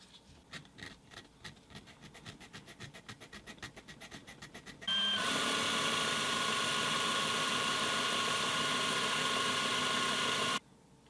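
A power drill re-drills the posts on a Redline bike frame, running as one loud, continuous whine for about six seconds after some rhythmic rubbing and scraping.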